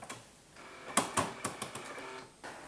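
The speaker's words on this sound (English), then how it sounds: "Printer making various noises, as printers do." An Epson P700/P900 printer prints on thick art paper fed through the front feeder, giving a sequence of sharp mechanical clicks and clunks at close range with quieter whirring between them.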